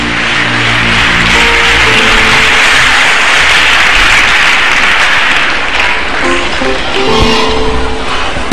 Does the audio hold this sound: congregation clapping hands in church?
yes